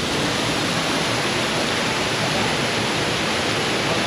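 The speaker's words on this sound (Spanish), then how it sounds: "Llega la cascada de la Montincana." Montincana waterfall on the Cebollón river, a dense, steady broadband rush of falling water that fills the whole sound without any break or voices.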